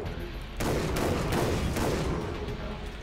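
Shotgun blasts in the video game Far Cry 3 Blood Dragon, several loud booming shots in quick succession over a dense layer of combat noise, close and forceful.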